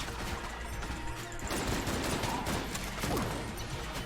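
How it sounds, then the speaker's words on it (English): Plague Pistol gunfire in the video game Enter the Gungeon crackles as a dense rapid burst of shots and impacts mixed with game effects, steady and close with no talk. "I'm holding Plague Pistol, so he's getting like a weird fat bullet effect."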